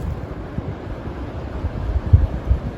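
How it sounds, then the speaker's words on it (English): A strong gust of wind rushes through the woods at night, a low buffeting roar with heavier thumps toward the end, heard alone. "There's a heck of a gust whipping up."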